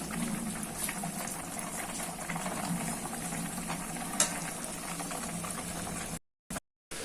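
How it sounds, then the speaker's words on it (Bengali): Tengra fish curry with a little added water simmering in a pot, heard as a soft, continuous bubbling boil at close range that drops out briefly near the end, with no talking. "হালকা অল্প একটু জল দিয়ে দিচ্ছি, দিয়ে মিক্স করে নিচ্ছি। এটাও সেম, আর 5 মিনিট মতো এটা ফুটিয়ে নিয়েই নামিয়ে দেবো।"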